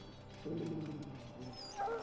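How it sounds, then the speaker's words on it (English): An injured, very ill Mabari war dog in the video game Dragon Age: Origins lets out a weak, low grumbling growl that turns into a brief higher whimper at the end, close and fairly quiet. "The Mabari growls weakly but does not challenge you."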